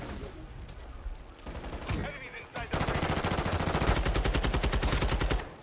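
Rapid automatic gunfire from a Call of Duty match crackles in dense bursts, with scattered shots early and a sustained stream of fire in the second half, while a voice talks faintly underneath.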